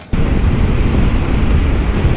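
Strong wind roars across the microphone on a Royal Enfield Himalayan motorcycle on a road trip through southern Morocco, a loud, continuous buffeting rush that begins abruptly and holds steady throughout, with no speech.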